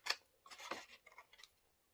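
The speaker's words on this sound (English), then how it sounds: "you can take a pair of paper snips and you'll just cut it at a slight angle" Paper snips make a few quick, crisp cuts at a slight angle through papercraft paper, heard alone and close up.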